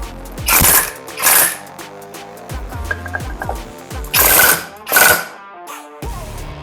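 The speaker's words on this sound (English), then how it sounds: "I'm just gonna use this impact wrench just to snug it up." An impact wrench snugs a 22 millimeter nut on a Yamaha Grizzly 660 ATV, loud close bursts of rapid hammering rattle in four main pulses, separated by quieter clicks and metallic handling.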